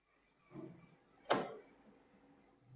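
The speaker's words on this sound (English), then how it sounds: "This phantom door is also aluminum and wood phantom door." A heavy aluminum and wood phantom sliding door moves indoors, giving a soft brief rumble followed by a sharp knock as it stops, with quiet room tone before and after.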